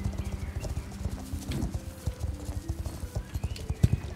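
A horse's hooves clip-clop in a quick, steady rhythm throughout in the Star Stable video game, close and continuous with faint background game music.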